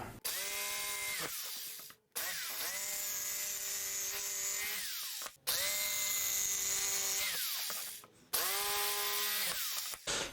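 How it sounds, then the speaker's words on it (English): A Ryobi jigsaw buzzes through wood cutting notches in four separate bursts, each starting with a rising whine and cutting off into brief pauses between cuts. "I have my jigsaw, my Ryobi jigsaw, and we'll just cut out these little notches"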